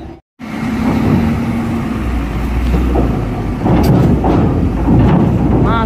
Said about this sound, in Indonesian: Masih truk dulu yang dinaikin nih.